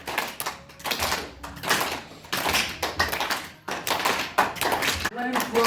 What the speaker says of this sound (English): just begin clapping the hands, but keep the elbows locked straight